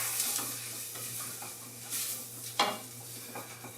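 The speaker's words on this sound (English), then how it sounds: "We're going to give that a little bit of a stir around." Flour being stirred into onions in a pot for a roux, soft scraping and shuffling strokes over a light sizzle, with a couple of sharper clinks from the utensil against the pan and a steady low hum beneath.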